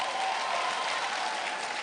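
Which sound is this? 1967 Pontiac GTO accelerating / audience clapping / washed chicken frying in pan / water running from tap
audience clapping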